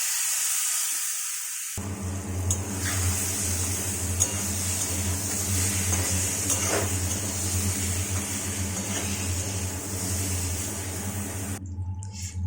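Mango pieces hitting hot mustard oil seasoned with five-spice, salt and turmeric give a steady, close sizzle and hiss for about ten seconds, with a low rumble underneath and no voices.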